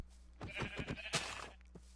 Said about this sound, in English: Another white sheepy.